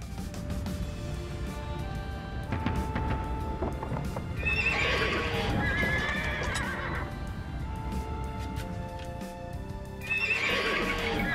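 Hooves clip-clop in a steady trotting rhythm in the video game Age of Empires II: Definitive Edition, joined by two shrill horse whinnies, with low ambient music-like tones underneath.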